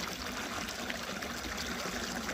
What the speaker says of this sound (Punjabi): ਪਾਣੀ ਨਿਕਲ ਰਿਹਾ ਬੋਰ ਦਾ ਇੱਥੋਂ ਪਾਈਪ ਰਾਹੀਂ